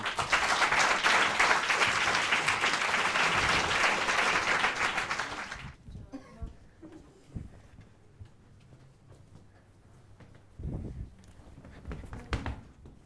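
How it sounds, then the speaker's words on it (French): Applause from a TV show audience for a performance, a dense burst of many hands clapping loudly for about six seconds, then cutting off to near quiet with scattered clicks and brief noises. "Je vous demande d'applaudir avec nous un travail performant, Tom et Léon."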